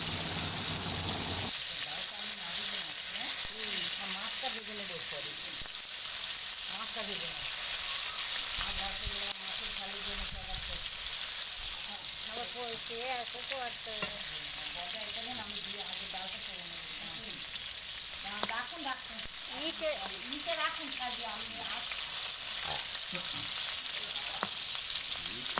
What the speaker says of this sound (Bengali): পটল ভাজা শুরু হয়েছে।